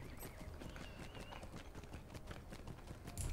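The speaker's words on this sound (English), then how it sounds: "I'll get there by horse." Horse hooves clip-clop steadily as a mount is ridden in the online game The Lord of the Rings Online, a dense rapid gait under continuous ambient game sound with no talking.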